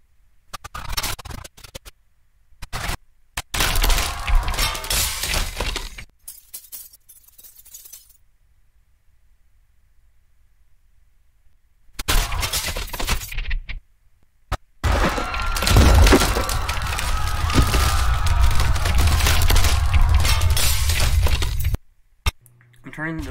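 Glass breaks and shatters inside a sinking ship's interior in layered sound design, with long bursts of crashing, scraping and tinkling debris broken by a gap of near silence, loud and close.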